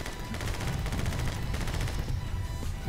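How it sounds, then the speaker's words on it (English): Rapid, dense gunfire from the action game My Friend Pedro, in the sewers level, crackles nonstop in a loud, continuous barrage of overlapping shots with no pauses and no voices. "I'm shooting them as I'm wall jumping."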